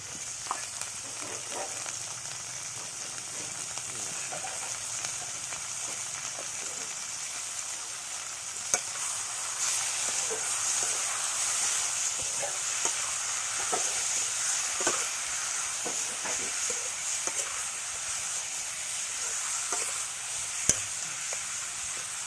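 Lai greens and spinach cook over a wood fire with a steady, close sizzling hiss throughout, broken now and then by faint pops and crackles.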